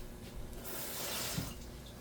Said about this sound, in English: I'm just going to add a little bit of water to those grains.